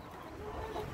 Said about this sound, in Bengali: মোরগগুলো এখনই তারা মোরগ সুলভ ডাক দেওয়া শুরু করতেছে